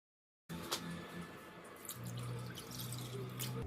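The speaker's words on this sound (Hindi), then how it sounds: "और अब इसे पानी से धो लेंगे।" Water rinsing a bowl while cooking Rajasthani maize rabdi, with steady running, splashing and dripping heard close and fairly quiet, starting abruptly after a moment of silence.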